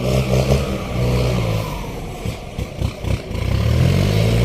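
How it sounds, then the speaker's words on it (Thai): A distant excavator engine revs and idles while loading soil onto a truck at a work site, its low rumble rising and falling with brief throaty surges in the middle before settling into a steady drone. "รถแมคโครกำลังเอาดิน ขึ้นซิบล้ออยู่ไกลๆนี่ครับ"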